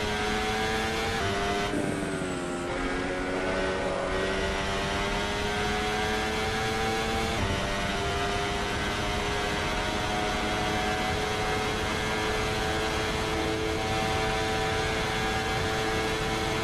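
Ferrari SF15-T Formula 1 engine in Assetto Corsa at Monza, a loud continuous high-pitched whine that climbs and drops through gear changes, with a sharp shift and dip near two seconds and again around seven.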